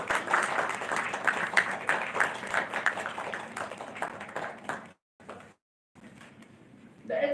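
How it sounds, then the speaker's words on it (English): Workshop audience applauding participants selected for a glacier expedition, a few seconds of uneven, moderately faint clapping that thins out and stops abruptly, followed by near silence and a faint noise at the end. "let's congratulate them with a round of applause for this selection"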